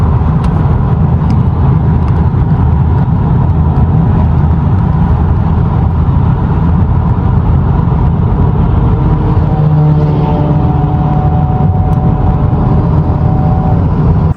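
A 10th-generation Honda Accord with a CVT is driven at road speed, a loud continuous wash of engine and road noise that holds steady throughout, no voices.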